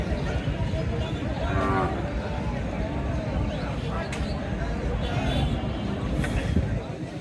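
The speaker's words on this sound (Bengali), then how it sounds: "খুব সুন্দর দুইটা গরু" Cattle, including large bulls, at the Bamundi cow market ahead of Eid al-Adha, with cows lowing over a continuous hubbub of crowd chatter and nearby voices talking.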